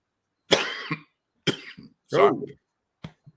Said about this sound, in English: time to cough